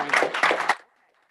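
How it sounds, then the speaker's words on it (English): A school board meeting audience gives a brief burst of applause for a student, loud and dense for under a second before cutting off into near silence. "Give her a round of applause."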